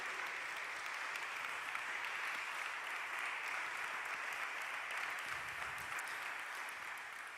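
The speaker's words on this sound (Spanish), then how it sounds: "dele un aplauso al Señor si usted le quiere aplaudir al Señor" A church congregation applauds during a sermon, a steady, distant wash of clapping that sits at a low level throughout with no talk over it.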